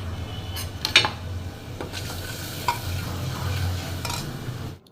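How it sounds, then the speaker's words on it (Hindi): Onion tempering sizzles and fries in hot mustard oil in a pressure cooker for rajma, with a steady close hiss, a few metallic clinks and scrapes of stirring, and no voices. "तो अब राजमा दोबारा से छौंक देती हूँ प्याज वाला"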